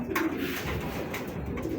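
Saddle pied racing pigeons coo steadily and close by, their soft throaty calls overlapping in a continuous murmur with no speech.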